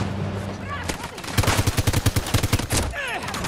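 Rapid bursts of automatic gunfire from a Battlefield 2042 firefight crackle loudly in a fast rhythm midway through, with scattered shots and game noise around them; a voice briefly talks over the action.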